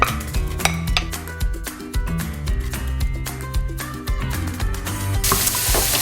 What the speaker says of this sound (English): we are going to cook our onions and mushrooms until they're nice and tender